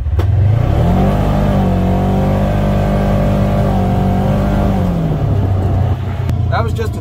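A Polaris Ranger XP 1000 side-by-side in performance mode accelerates hard with its tires spinning, its loud, close engine climbing in pitch and then holding a steady, throaty drone, with a voice speaking over it.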